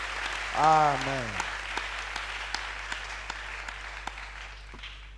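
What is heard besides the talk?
church congregation applauding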